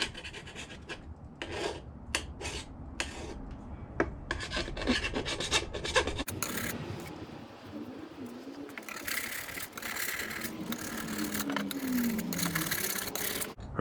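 A file rasps burrs flat on the steel of a horseshoe knife, with quick repeated strokes up close, followed by a steadier rubbing passage while birds chirp faintly outdoors.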